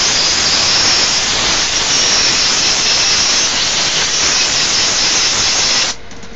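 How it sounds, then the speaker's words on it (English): Compressed air blasts steadily into an emptied fire extinguisher being recharged, a loud continuous hiss lasting about six seconds before cutting off abruptly into quiet. "Blow it out with compressed air."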